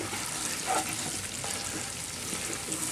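Chopped onions frying in a Dutch oven for potatoes, a steady close sizzle that holds throughout with a faint stir or two and no talk.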